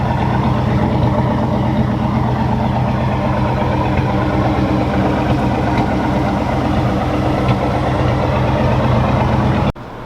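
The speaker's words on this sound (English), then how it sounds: "I'll let y'all hear it idle." Steady low idle from a 1976 Buick Century Custom with dual exhaust, rumbling evenly and close for about ten seconds before cutting off abruptly at the end.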